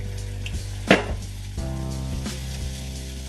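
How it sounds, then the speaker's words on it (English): Tamarind juice and jaggery poured into a pan of cooking tomatoes for North Karnataka style girmit, a burst of sizzling and bubbling around the pour, then a steady close frying hiss with faint utensil clatter. "now we will add the tamarind juice and some jaggery"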